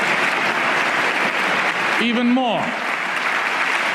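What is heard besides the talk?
audience applauding a speech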